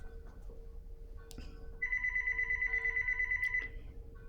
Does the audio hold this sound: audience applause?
no